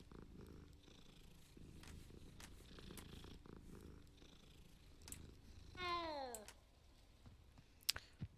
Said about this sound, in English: Sorry, I gotta pet the cat.